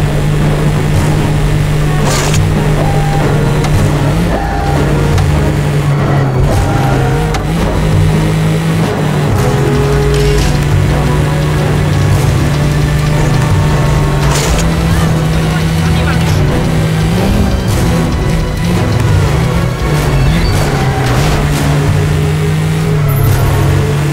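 A car in the James Bond 007 Agent Under Fire video game drives with a loud, steady engine drone and revving that persists throughout, while a voice speaks over it.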